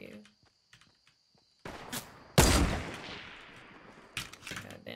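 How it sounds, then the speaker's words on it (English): Hunting rifle shots echo across a Fortnite match, with a sharp crack followed by a long ringing decay and another shot near the end, among quieter footsteps and a few soft thuds. "He's playing with that hunting rifle."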